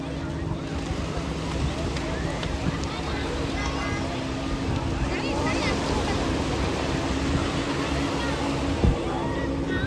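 Boats out on the sea off Nagoa Beach in Diu, a low steady engine rumble mixed with wind and surf, distant and continuous under faint background voices.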